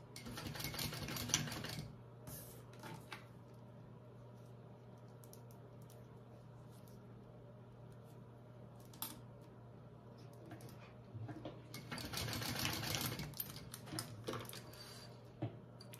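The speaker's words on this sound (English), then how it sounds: "set it in there, fold it over, and I'm just going to baste it closed for now" A sewing machine basting a D-ring strap closed, its needle running in two short bursts with a steady low hum and faint clicks in the quiet stretch between, no talking.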